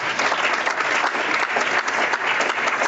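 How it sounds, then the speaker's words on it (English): A crowd claps continuously and loudly in dense, even applause for under three seconds, with no voices standing out. "Another round of applause."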